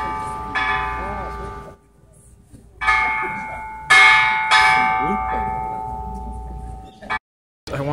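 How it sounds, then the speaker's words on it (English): A temple-style bell at Hiroshima Peace Memorial Park is struck several times, each ring a loud, close strike with a long humming decay that overlaps the next, outdoors with faint background noise. "the bell you hear ringing behind me"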